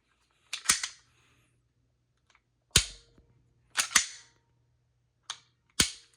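Dry-fire trigger pulls and slide clicks from a Walther PDP Pro SD Compact 4.6 handgun, about five or six sharp close metallic snaps spaced apart in quiet, with no talking.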